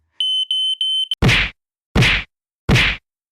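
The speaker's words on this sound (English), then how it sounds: "Bang! She hit the first smoke detector." A shrill, steady smoke alarm beeps in short pulses, then cuts out as a stick strikes it with a sharp whack, followed by two more loud, evenly spaced thwacks alone.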